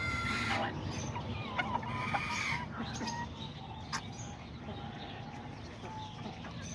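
Small black hens of Azteca and Serama bantam breeds cluck in a flock, with steady overlapping calls and short sharp accents over a dense, continuous background of other chickens nearby.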